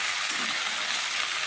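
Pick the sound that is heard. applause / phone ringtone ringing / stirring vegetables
stirring vegetables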